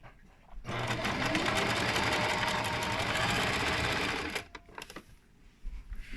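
A sewing machine runs in a steady, rapid mechanical whir for several seconds, close and fairly loud, then stops, leaving quiet handling noises.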